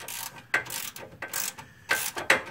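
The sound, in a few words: ratchet loosening a strut screw on a Mercedes C180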